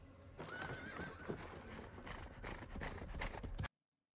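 Horses galloping and neighing in a Game of Thrones battle scene, a thick rumble of hoofbeats with whinnies rising above, loud and continuous before an abrupt cut to silence.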